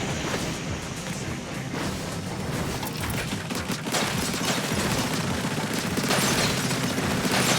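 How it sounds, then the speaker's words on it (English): Bombs bursting in Splatoon 3, a dense, crackling stream of explosions and splattering bursts that grows slightly louder midway and carries on without pause. "Whoa, bombs! Bombs away!"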